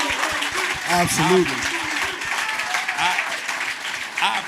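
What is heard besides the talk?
audience applause for Stephen A. Smith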